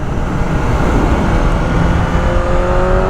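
A BMW M1000R motorcycle pulling hard in 4th gear through a long sweeping bend, its engine a loud, continuous droning roar with rising pitch over a few seconds.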